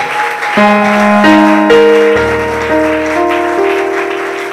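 A church congregation claps in steady, dense applause that continues throughout, loud and close, under sustained keyboard chords that shift every second or so.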